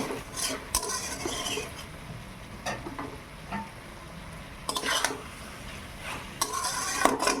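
Chicken stew being stirred and sautéed in a pot, a steady sizzle beneath repeated scraping and clinking strokes of a spoon against the pot, close and moderately loud, no voices.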